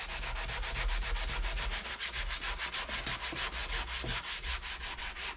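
Sandpaper rubs quickly back and forth along the wooden neck of an electric guitar, a close, steady rasping stroke rhythm continuing without pause and no voices.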